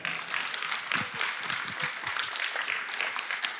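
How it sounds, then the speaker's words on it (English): Applause from an audience, steady and sustained, with faint voices mixed into the clapping. "I would just like to give a round of applause for that."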